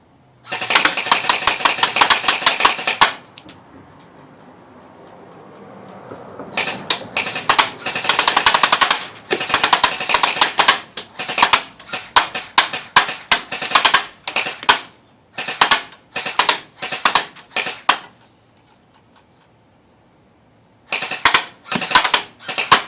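A DBoys AK74u airsoft gun fires full auto in several long rapid bursts and shorter strings, a sharp close mechanical rattle separated by quiet pauses.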